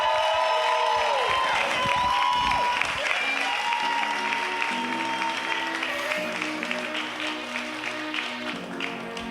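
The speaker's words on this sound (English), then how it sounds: "Give it up for Brea Watts coming up to the stage." An audience claps and cheers as a storyteller comes on stage, dense applause with whoops up front, then a music-like tonal pattern rises beneath as the clapping slowly thins.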